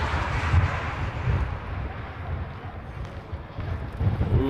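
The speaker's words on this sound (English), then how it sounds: "that wind is getting bad" Gusty wind buffets the microphone at an outdoor plane-spotting site in Honolulu, a steady low rumble that swells and eases, with no voices.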